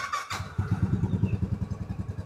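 A 2017 Royal Enfield Classic 500 single-cylinder motorcycle idles close by, its engine thumping in a steady, even rhythm after a brief burst of noise at the start.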